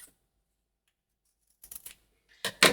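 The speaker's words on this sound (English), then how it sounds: "So let me just cut a piece. I grab my fabric scissors." Fabric scissors cut through a piece of ruffle fabric in short, crisp snips. Two quick clusters of cuts come close to the listener after a stretch of near silence.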